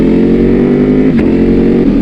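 A Ducati Panigale V4R superbike with an Akrapovic race exhaust revs loudly and close, a deep harmonic engine roar with a brief dip and blip on the downshift.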